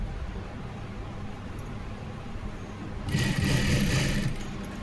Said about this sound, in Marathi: आणि आता पायपिंगवरती व्यवस्थित मधोमध शिलाई टाकायची आपल्याला.